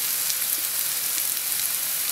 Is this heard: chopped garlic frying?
yes